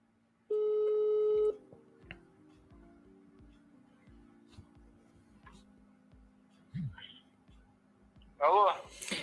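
A telephone busy signal sounds during a call attempt in Russia, with a steady tone at the start followed by repeated short beeps. Faint background noises and a brief voice-like burst near the end are also heard.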